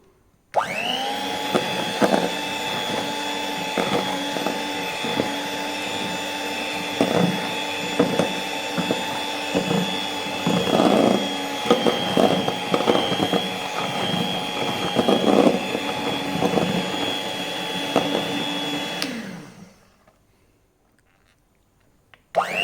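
Electric hand mixer beating whipping cream for a cake, a loud, steady whine running close for nearly twenty seconds with small shifts in pitch, then cutting off into near silence.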